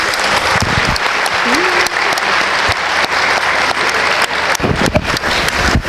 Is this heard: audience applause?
yes